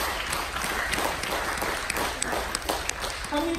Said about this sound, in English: Can we stop and give a clap for those people up there?